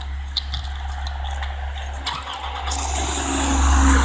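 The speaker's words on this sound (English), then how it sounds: "let the car run" A car engine starting and idling to defrost and warm up after a snowfall, a low steady rumble with small clicks and a jangle of keys, the engine note swelling louder toward the end, no talk.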